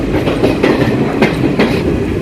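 VSG-SHM 18048 Express rumbling through a tunnel on the Goa to Vijayawada route, a loud continuous roar with rhythmic clickety-clack wheel beats recurring throughout, no voices.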